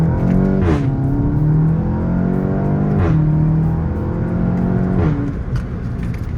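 A 2021 VW Golf 7.5 GTI TCR engine revs up hard three times, each climb ending in a sharp drop and crackle, loud and close with no talk.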